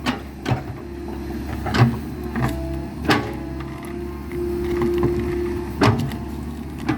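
Heavy wood scraping and grinding in slow dragging pulls as a fresh-cut giant tamarind trunk is dragged by an excavator, with occasional sharp knocks and creaks, fairly close with a low rumble underneath.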